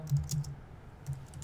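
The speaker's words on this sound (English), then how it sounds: "And I'll start typing in" Someone types on a computer keyboard, with short bursts of clicking keys at the start and again near the end, a pause between them, close and moderately loud with no talking.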